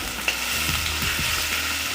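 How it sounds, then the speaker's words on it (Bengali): Grated ginger and panch phoron (five-spice seeds) fry in oil for a Bengali taro root curry, giving a steady, close sizzle with light stirring noises and no talk. "আমি ভেজে নিব ভালো করে।"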